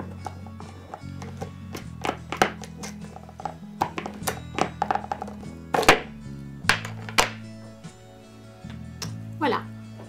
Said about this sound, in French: je sors l'ouvrage du tambour